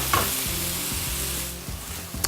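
Mince browning in a pan for bolognese, a continuous loud sizzle with low scraping stirs and occasional clanks of a utensil against the pan.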